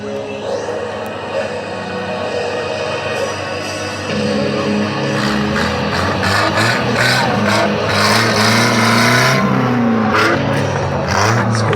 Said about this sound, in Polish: Jadąc na dwóch kołach w pewnym momencie straci kontakt z leżącymi na torze chłopakami